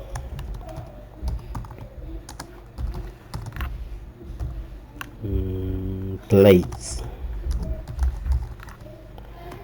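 Someone types on a computer keyboard while entering product names in uppercase in an Excel spreadsheet for an exam-style exercise, steady soft key clicks running under continuous talking.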